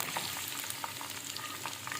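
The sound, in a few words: large sliced onions frying in oil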